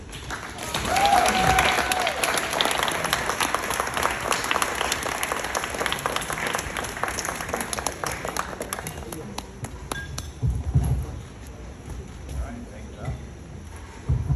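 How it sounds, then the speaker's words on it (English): An audience applauds after a speech, a dense round of clapping that holds steady for about ten seconds and then thins out into scattered claps, with voices talking underneath. "Nice round of applause one more time for everybody that came up here and spoke."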